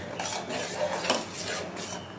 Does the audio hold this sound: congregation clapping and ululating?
no